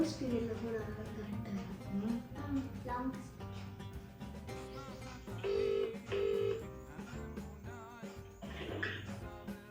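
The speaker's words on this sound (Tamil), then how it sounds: "நம்ம வந்து அவருக்கு ஃபோன் பண்ணுவோம்" A phone is dialed for a call during a Sunday home vlog, with a string of short key-press tones and beeps over background music and talking voices.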